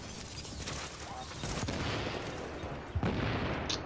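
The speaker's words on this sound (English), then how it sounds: "I'm shooting the wall in front of me" Rapid gunfire in a video game, with shots hammering a wall, runs as a dense, continuous burst through the whole stretch, loud and close. A sharper crack lands near the end, and a voice talks faintly underneath.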